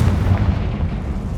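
A Confringo blasting spell cast in Hogwarts Legacy gives a loud, close, booming fiery burst, rumbling heavily in the low end and holding steady through the whole short moment.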